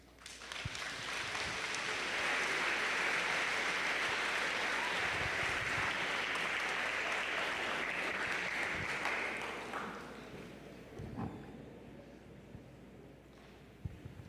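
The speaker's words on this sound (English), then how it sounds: "give our presenters a huge round of applause" An audience applauds student presenters after their talk on the history of the Armenian Genocide: dense, loud clapping builds quickly, holds strongly for several seconds, then thins out to a few scattered claps and room noise.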